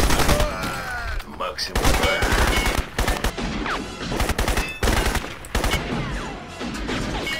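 Rapid bursts of automatic gunfire in the Crysis video game, loud and choppy with short pauses between volleys, while someone speaks Russian under the shooting.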